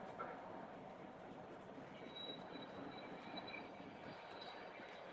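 An Alaska Railroad train rolls past in the distance, faint rumbling wheels with thin, high wheel squeals rising midway and running steadily throughout.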